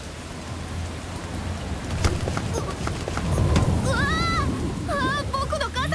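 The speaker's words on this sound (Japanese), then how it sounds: "それにこの雨だからね。" Evening rain pours steadily at moderate loudness, a dense hiss with scattered drops and a low rumble beneath, joined by a clip-clop-like tapping and brief rising tonal chirps toward the end.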